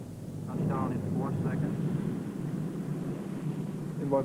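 Propeller transport planes of the Berlin airlift fly overhead in a steady, broad drone that persists through the clip, with a voice speaking in Spanish over the engine rumble.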